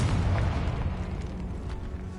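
A Confringo blasting spell explodes in the Hogwarts Legacy video game near a cave, a low booming rumble that starts loud and slowly fades over dense ambient noise.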